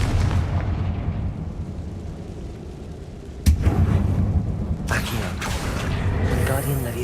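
A Confringo fire-blast spell in the video game Hogwarts Legacy bursts with a single sharp explosive crack midway, over continuous rumbling game ambience, followed by further crackling and whooshing effects.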